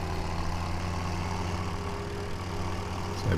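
Tractor engine idling in a farming game, with a New Holland machine mentioned nearby: a steady, low droning hum that stays even throughout, close and alone, with a slight rise at the very end.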